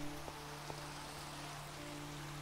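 Steady rain falling in a survival video game, a continuous even hiss of close raindrops with faint low tones underneath and no talking.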